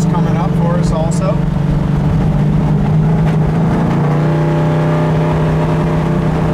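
A 1966 Ford Mustang convertible's engine hums steadily while driving down the road, a loud continuous low drone with wind and road noise, and someone talks over it.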